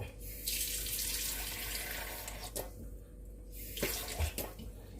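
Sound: water being poured into a cooking pot

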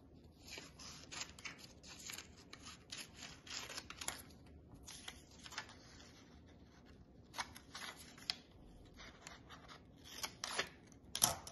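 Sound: cutting paper along drawn lines

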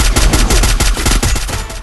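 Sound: gunfire in Free Fire video game

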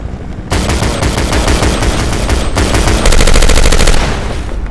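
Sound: gunfire in a video game

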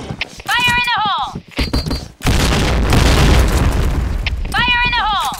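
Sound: grenade explosion in a video game (shooter)

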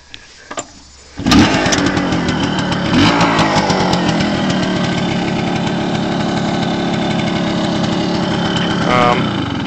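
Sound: kick-started motorcycle engine running

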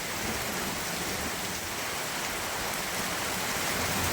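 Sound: heavy rain on Hanuman Jayanti

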